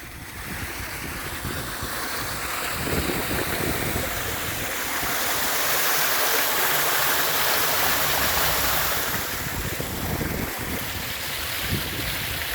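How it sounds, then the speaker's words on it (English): Floodwater rushes through a ditch after heavy rain, a continuous turbulent wash that swells slightly midway, close by, with gusty wind mixed in and no talking. "You know, it's rained a lot when this ditch here fills with water."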